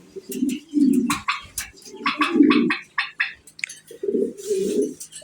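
Mundian pigeons coo in repeated low, throaty bursts, close and fairly loud, with a busy chirping of other birds over them throughout.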